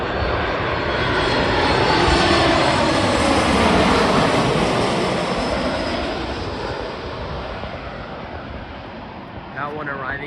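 A passenger airplane roars in to land at Newark airport, its engine noise building to a loud, close peak and then fading as it passes, with a faint voice near the end.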